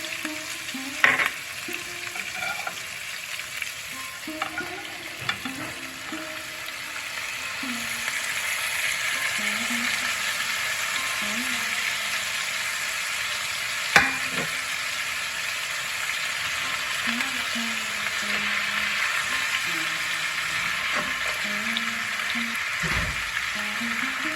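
Pui, kalmi and red amaranth greens fry in a hot pan with a steady, close sizzle throughout, and occasional scrapes and knocks of stirring break through.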